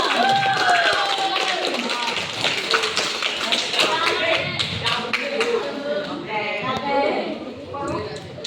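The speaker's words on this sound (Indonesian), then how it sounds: "Tepuk tangan untuk anak-anaknya" At a school anti-bullying seminar, an audience claps for the students, a dense patter of hand claps and taps mixed with crowd chatter and voices throughout.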